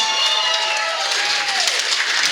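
A large crowd at a company Christmas party applauding loudly and steadily, dense clapping with some cheering, sustained throughout.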